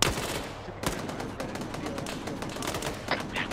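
Rapid bursts of automatic gunfire from about ten AI soldiers firing at an Apache helicopter in a military video game, a dense crackling volley with sharp individual shots throughout, moderately loud.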